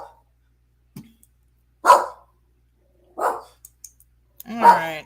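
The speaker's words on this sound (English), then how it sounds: "I got Rogue barking at her friends outside." A dog barks outdoors at some friends, giving a few separate, fairly loud barks spaced out over several seconds with quiet gaps between them.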